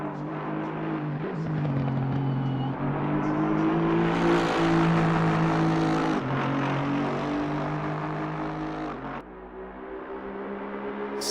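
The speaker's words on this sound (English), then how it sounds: "You can hear that Coyote V8 in the background there." A Coyote V8 race car engine in the racing game Assetto Corsa Competizione at Suzuka drones steadily in the background, rising in pitch as it revs, then dipping briefly before climbing again, with no talk.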